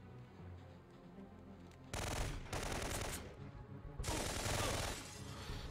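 Enemy automatic gunfire in Syphon Filter 3, dense rapid bursts of machine-gun fire erupting in two loud volleys over a quieter background.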